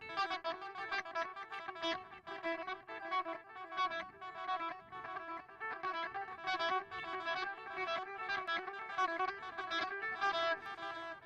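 Unplugged electric guitar running a repeated practice pattern of quick picked notes. The notes are thin and bright, quiet and close, with a fairly even rhythm and no talking.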